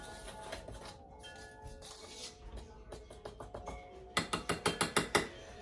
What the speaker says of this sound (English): I'm gonna turn my oven on to 350.